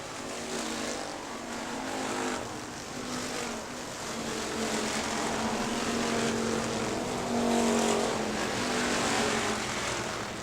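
Factory stock race cars lap Hartford Speedway Park in a 2000 race, their engines forming a continuous, droning roar that swells and fades slightly as the pack circulates in the distance.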